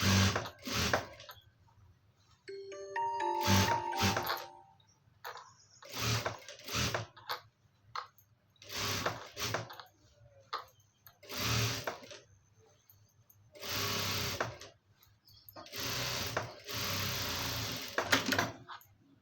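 A sewing machine runs a double stitch in repeated bursts of rapid mechanical whirring and clatter, separated by short pauses, loud and close.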